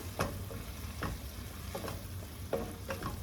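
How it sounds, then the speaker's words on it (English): A teaspoon of seasoning is stirred into sauce in a pan while preparing low carb lasagna, giving a run of soft spoon scrapes and taps against a low steady hum, with no voices. "Stir that in."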